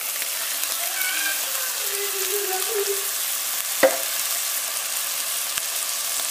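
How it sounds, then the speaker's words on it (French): Bolognese sauce for spaghetti sizzles steadily in a pan as tomato pulp goes in, with a single sharp clink partway through and no voices. "Il ne me reste plus qu'à ajouter la pulpe de tomate."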